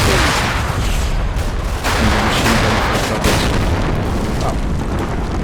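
Tank gunfire in the World War II game Combat Mission: Battle for Normandy, with heavy, loud booming blasts and dense rumbling battle noise continuing throughout.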